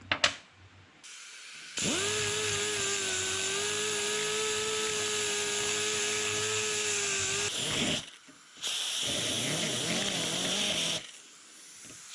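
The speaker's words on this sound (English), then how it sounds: "I'm going to clean this thing up with a burr" A rotary burr grinds a clutch shaft in two bursts, a steady high whining buzz held for several seconds, a short pause, then a second rougher grinding pass, loud and close.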